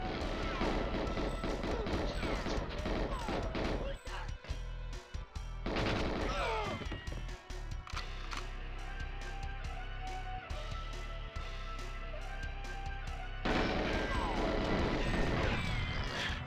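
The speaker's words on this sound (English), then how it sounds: "exploding barrel, of course. Has to be the exploding barrel." Exploding barrel blast in the video game GoldenEye 007 on Xbox Series X, heard among a dense, loud run of gunfire, crashes and explosions with game music underneath, continuous throughout.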